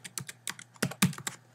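Quick keystrokes on a computer keyboard, about a dozen close, crisp clicks in an uneven burst as a web address is entered, with no voice.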